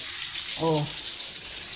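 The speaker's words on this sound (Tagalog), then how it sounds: "Naglalaro na naman siya ng tubig." Water running and splashing outdoors at a small home as someone plays with it, a steady close hiss throughout with a brief voice-like tone partway through.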